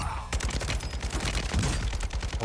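Rapid automatic gunfire from RPK and Fennec guns in a first-person shooter video game, dense bursts of shots in quick succession.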